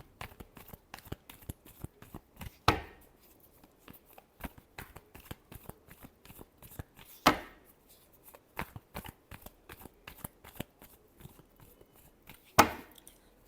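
Tarot cards being shuffled by hand during a love reading, a quiet run of soft riffling flicks and taps with three louder sharp snaps of cards spaced several seconds apart, close and alone.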